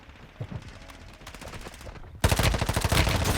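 Automatic gunfire from the mobile shooter game Warzone Mobile: faint distant bursts of rapid shots, then a loud close burst of sustained firing.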